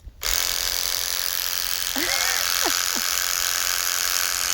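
Electric horse clippers buzz steadily and continuously close by, with a few brief squeaky chirps over it partway through.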